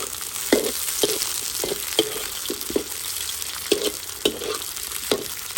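Onions and carrots sauté in a hot pan, with a steady sizzle broken by repeated sharp scraping stirs every half second or so, close and busy, with no voices.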